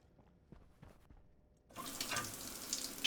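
A shower in the space-survival game Stationeers starts running partway through, a steady hiss of spraying water after a near-silent stretch with a few soft clicks.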